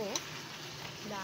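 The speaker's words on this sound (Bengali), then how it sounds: "মশলাটা সব আলু ফুলকপি মিশিয়ে নিচ্ছি" Spices are stir-fried with potato and cauliflower in a pan, a dense continuous sizzle filling the clip, up close and steady, with a voice briefly heard at the start and end.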